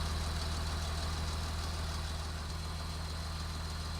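A farm tractor hitched to a PTO-driven slurry tanker runs at a steady idle, a continuous low mechanical hum with a faint high whine that holds evenly throughout, with no voices.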